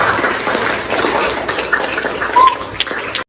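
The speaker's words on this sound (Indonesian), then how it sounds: "Tepuk tangan buat mereka semua" Classroom clapping from a group of schoolchildren, a continuous moderately loud patter that gradually thins and fades toward the end, with a faint voice or two poking through.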